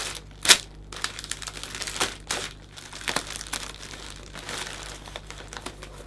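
Cellophane crinkles and crackles up close as it is folded into a point for a hand-tied Christmas gift wrap, with irregular sharp rustles and a louder snap near the start, with no voices.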